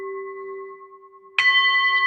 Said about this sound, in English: Now I have to ring it again.